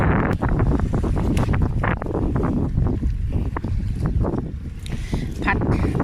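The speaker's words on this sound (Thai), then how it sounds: "ลมแน่พี่น้องค่ะ" Strong wind buffets the microphone outdoors by the sea while sea vegetables are being picked, a steady rushing roar with gusts throughout, mixed with faint surf and someone talking.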